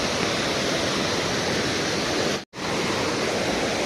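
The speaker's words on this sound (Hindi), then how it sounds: "तो हमको इस नदी को पार करके जाना है" A mountain river on a rough trail to a temple rushes loud and steady at close range, a dense broadband roar of water that cuts out for a split second partway through.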